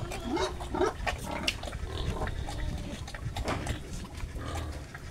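A hungry, newly weaned piglet eats feed mixed with a powder dewormer, grunting and smacking close up while it eats steadily, with a little low background noise.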